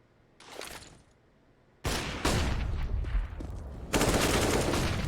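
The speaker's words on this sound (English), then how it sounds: "That's a big flashbang." Counter-Strike flashbang grenades detonate during a professional ECS Season 8 match on the Vertigo map: loud, sharp blasts burst out of near-silence, followed by dense, sustained crackling gunfire-like noise.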